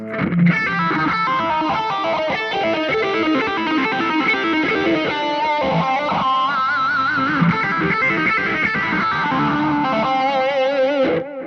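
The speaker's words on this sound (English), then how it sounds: "This first one uses the minor pentatonic sound, that blues note" Distorted electric guitar plays a bluesy lick with effects, sustained notes and bends ringing out continuously, loud and close.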